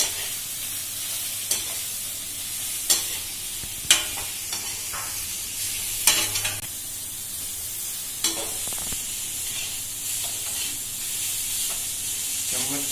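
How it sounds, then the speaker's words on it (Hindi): Grated carrots frying in ghee in a pan hiss and sizzle softly throughout, broken by a series of sharp scraping clicks from a spoon stirring against the metal. "इसको मिक्स करते जाएंगे पैन।"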